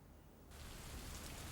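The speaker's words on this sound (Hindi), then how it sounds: "लो, बारिश शुरू।" Rain starting to fall, a soft hiss that begins abruptly and quickly swells into a steady, dense patter of drops.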